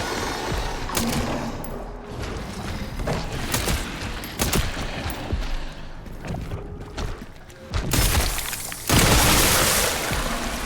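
Gunfire in Resident Evil Requiem comes as repeated sharp shots scattered through loud, busy game action, with heavier blasts toward the end.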